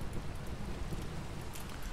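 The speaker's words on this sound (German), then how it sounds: "Und es regnet." Minecraft rain, an even, soft hiss of falling drops with a faint low rumble underneath, steady throughout with no talking.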